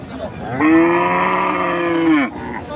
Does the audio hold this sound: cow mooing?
yes